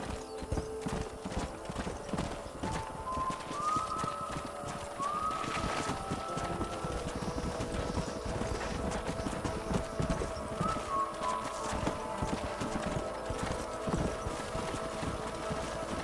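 Horse hooves in the video game Red Dead Redemption clip-clop steadily at a trot, with an occasional whinny and faint birds over a constant outdoor ambience.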